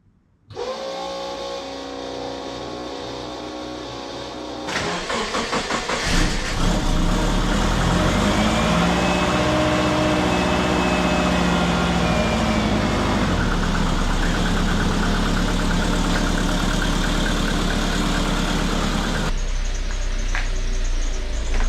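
A VW Mark 5 Golf GT engine cranks and fires after an earlier steady hum, then settles into a loud, close, even idle that holds steady and partly fades near the end.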